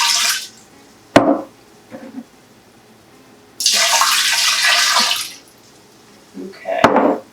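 Kombucha mixture is poured into a jumbo jar in bursts of splashing liquid, one long steady pour in the middle and shorter splashes with clinks of glass around it.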